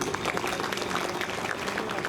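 Steady applause from an audience at a poetry reading during the Satara district book festival, dense continuous clapping throughout, loud and sustained with some crowd murmur mixed in.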